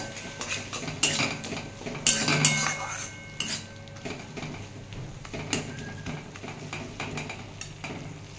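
Bitter gourd curry stir-fried in a pan, a spatula clattering and scraping against the metal in repeated strokes over a faint sizzle, close and steady throughout.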